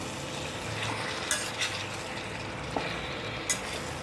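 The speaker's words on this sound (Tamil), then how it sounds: "இப்போ இந்த சிக்கன் நல்லா இதோட நல்லா மிக்ஸ் ஆகிற மாதிரி பரட்டிடலாம்." Chicken for a Kadai pepper chicken perattal is stirred in a pan, with a soft steady sizzle under a few light scraping and clinking strokes of a spoon against the pan.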